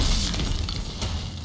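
An explosion in the video game Outriders, a loud broad crashing burst with shattering debris that fills the short moment without speech.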